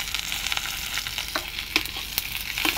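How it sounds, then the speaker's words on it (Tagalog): Chicken sizzles and crackles steadily while sautéing in a hot pan for spicy chicken afritada, with scattered sharp pops and a few stirring scrapes; no voices. "Igigisa ho natin."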